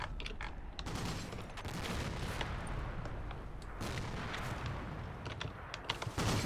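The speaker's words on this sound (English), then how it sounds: "The mortar fire and the HMGs firing" Dense battlefield din from a war video game, with mortar blasts and bursts of heavy machine gun fire mixed into a continuous rumbling barrage, no voices heard.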